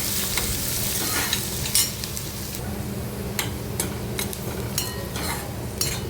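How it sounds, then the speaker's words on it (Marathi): Finely chopped onion sautéing in a pan, a continuous sizzle with intermittent stirring and clinks of a utensil against the pan, moderately loud and steady. "कांदा व्यवस्थित आपल्याला परतून घ्यायचा आहे"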